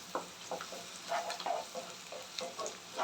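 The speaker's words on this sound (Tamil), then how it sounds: "கொஞ்சம் பூண்டு வெங்காயம் எல்லாம் நல்லா வதங்கி வரட்டும்." Crushed garlic and onion sauté in a pan for a Tamil ladyfinger kara kulambu, giving a soft, steady sizzle broken by gentle stirring scrapes and small spoon taps, fairly quiet, with no talk.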